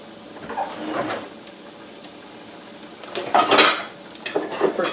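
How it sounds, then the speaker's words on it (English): Garlic and herbs are sautéed in a pan with scraping and clinking of a utensil against the cookware, quiet stirring in between and a louder burst of clattering near the end, with no talk. "we're going to saute the garlic and the herbs first"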